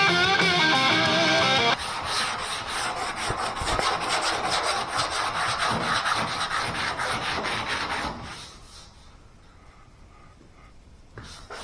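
Dried body filler being sanded on a car body panel with a block or sander, a steady loud scraping rub that runs continuously, then drops to a quieter, sparser scuffing near the end.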